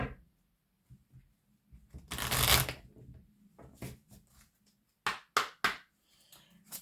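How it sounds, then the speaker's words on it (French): Tarot cards being shuffled in several quick bursts, with a long riffling rush early on, quieter handling sounds between, and three sharp snaps of cards near the end, close and alone. "On va aller tirer quelques cartes"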